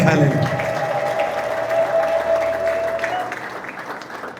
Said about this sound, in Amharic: ለእግዚአብሔር ክብር አጨብጭቡለት እስቲ